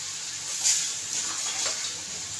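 Hands washed under a running kitchen tap, a brief close splash of water lasting a couple of seconds, no talking.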